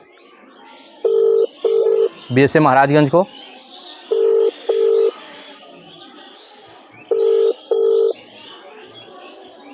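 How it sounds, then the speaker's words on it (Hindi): A phone call's ringback tone repeats as paired short buzzy pulses at regular intervals, close and clear, with a brief burst of speech cutting in after the first pair. "घंटी जा रही है"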